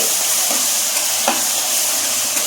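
Tomato masala sizzles steadily in hot oil, with soft scraping from stirring over the constant hiss, close and without talk.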